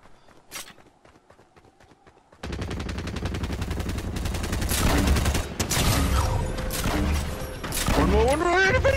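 Rapid bursts of light machine gun fire in a multiplayer shooter video game, loud and dense after a quiet opening, running continuously with other game sounds and voices talking over it.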